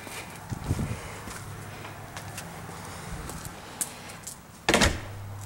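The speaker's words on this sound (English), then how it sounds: "let me shut this door" A door in a fiberglass and drywall shop is pushed shut with a solid thunk near the end, after a few quieter knocks, shuffling and handling sounds in a slightly echoing room.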